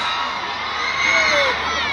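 At a MotoGP event at Mandalika, a dense crowd shouts and cheers loudly for a special T-shirt giveaway, with high voices screaming together and swelling briefly midway.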